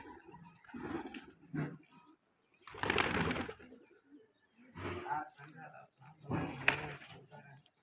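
Pigeons coo in low, throaty bursts that come and go, with a voice speaking in between.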